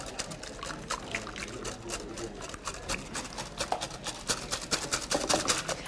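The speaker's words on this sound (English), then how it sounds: "Whisk in the cream." Cream whisked by hand into a smoked mackerel tart filling, a brisk close rhythmic scraping and sloshing in a bowl that grows slightly louder and more uneven toward the end.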